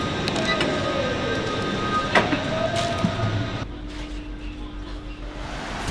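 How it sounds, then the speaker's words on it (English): A passenger train pulling out of Paddington Station: a steady rumble and mechanical hum inside the carriage with faint clicks and squeaks, then the tone shifts as the train gets moving, carrying on under a quiet carriage. "The train's moving"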